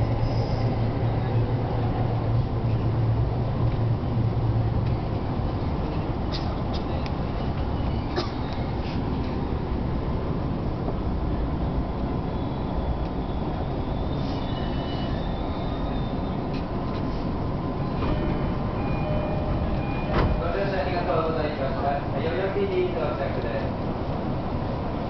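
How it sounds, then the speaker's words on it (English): Tokyo Yamanote Line train running, a steady rolling rumble of wheels on track heard from inside the car with occasional squeals and clunks, while an onboard announcement plays. "This is the Yamanote Line train bound for Shibuya and Shinagawa."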